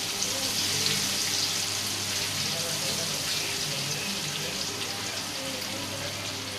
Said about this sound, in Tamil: ஆனா நல்லா கொதிக்குதுடா